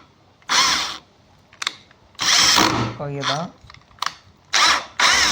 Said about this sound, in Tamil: அது கலத்த முடியுதா கலத்துமானு தான் டெஸ்ட் பண்ணி பார்த்தேன்